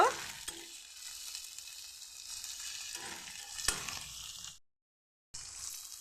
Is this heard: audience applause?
no